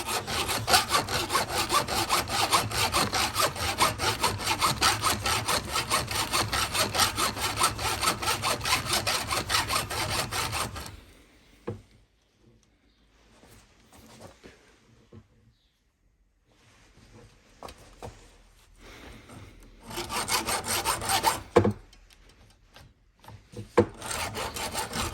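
A hacksaw cuts through a 1:18 scale Holden Monaro model car in fast, steady rasping strokes close by, then pauses before short bursts of sawing resume.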